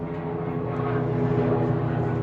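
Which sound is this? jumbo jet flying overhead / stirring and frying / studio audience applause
jumbo jet flying overhead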